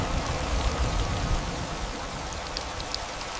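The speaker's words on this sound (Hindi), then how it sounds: "फिर पूरी रात बारिश होती रही।" Steady rain falling through the night, a continuous dense hiss of drops with a heavier low rumble, loud and unbroken with no voices.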